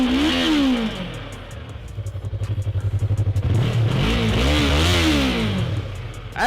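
Yamaha R3 sport motorcycle engine revving from a cold start, a close, loud idle burble that rises into two aggressive throttle blips and climbs back down, with no talking.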